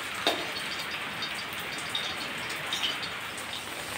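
Steady rain falls on a rural homestead, a dense even patter with a few sharper drops standing out, continuous throughout with no one talking.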